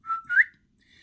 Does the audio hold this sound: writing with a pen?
no